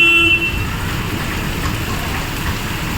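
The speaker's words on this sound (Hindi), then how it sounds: "बारिश और तेज़ हो रही है, कम नहीं हो रही।" Heavy rain pours during a storm, a dense continuous hiss of drops hitting surfaces nearby, steady and fairly loud, with a faint vehicle horn briefly at the start and no talking.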